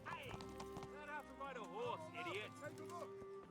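Steady clip-clop of horse hooves at a walking pace in the PC game Kingdom Come: Deliverance, with a brief whinny and game music underneath, and someone talking over it.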